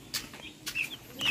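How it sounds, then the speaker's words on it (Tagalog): Turkey chicks and chickens give a few soft, quick clucks and chirps nearby, short scattered calls over a quiet background. "O mga sisiw na pabo at saka manok."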